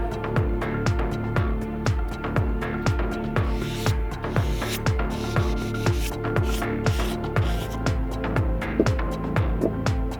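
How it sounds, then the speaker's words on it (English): A fine abrasive sponge scrubs deposits and corrosion off a metal holder in quick repeated strokes, an even rhythmic rubbing close up with no talk. "Deposits and soiling, such as corrosion, can be removed with a simple cleaning agent or with the help of a fine abrasive sponge."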